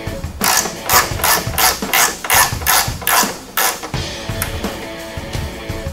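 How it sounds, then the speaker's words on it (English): A hand ratchet loosening a bolt on a 2015 Polaris RZR 900S, a rapid run of sharp metallic clicks in steady bursts, close up and loud, then easing into slower creaking turns. "Next, you're going to want to remove this bolt right here."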